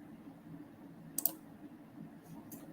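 A single sharp mouse click near the middle, followed by a fainter click a moment later, over a quiet background hum; the click deletes a search service.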